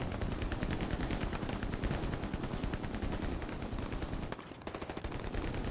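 Heavy, continuous gunfire fills the video game Hell Let Loose, with dense overlapping automatic bursts throughout and a brief dip near the end. A player speaks a couple of words quietly beneath it.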